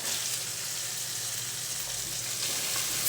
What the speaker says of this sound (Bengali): এখন আমি সবজিগুলো দিয়ে দেব।